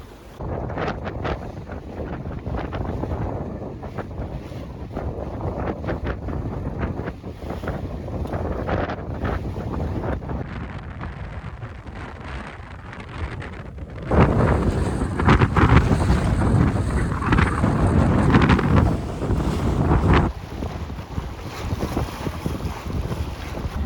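A sailboat runs through strong Bora wind near the Kornati Islands in Croatia, with loud, constant buffeting wind against the microphone, rushing water along the hull and a gust that grows even louder midway.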